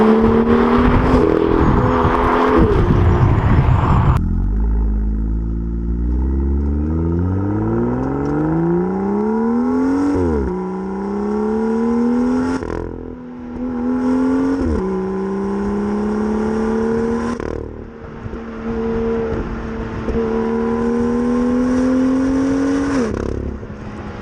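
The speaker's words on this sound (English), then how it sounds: "every M car, as you know, comes with an absolutely brilliant soundtrack." A powerful BMW M car engine revs repeatedly, pitch climbing and dropping through several loud bursts with sharp throttle blips between them, close and sustained.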